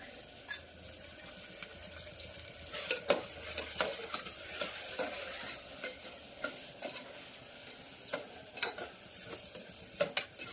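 Spices tempering in hot oil for an ivy gourd (tindora) curry sizzle with a soft continuous hiss, punctuated by scattered stirring clicks and scrapes against the pan.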